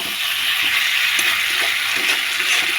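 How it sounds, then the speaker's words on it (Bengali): Eggs and potatoes sautéed together in a hot pan give off a steady, close, loud sizzle with faint scraping from stirring, continuous and without talk. "চলো এদিকে ডিম আর আলু একসঙ্গে কষানো হচ্ছে।"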